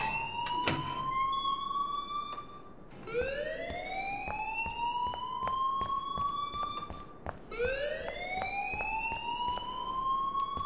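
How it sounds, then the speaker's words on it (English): A school alarm in the video game Life is Strange rings as a loud, repeating electronic siren tone that sweeps upward and holds, repeating several times steadily without talk. "please turn off that alarm since that's your job"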